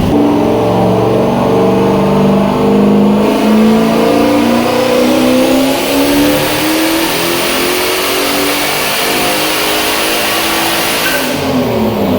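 A turbocharged Miata running 30 pounds of boost with a 200-shot of nitrous screams through a full pull on a dyno, its loud engine tone climbing steadily in pitch, then dropping off near the end.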